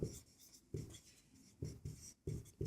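A solution to a Class 10 maths problem being written on a board during a lesson: quick, rhythmic strokes and taps in short bursts, close and fairly quiet, with no speech.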